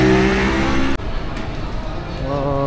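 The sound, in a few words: heavy street traffic, Port Louis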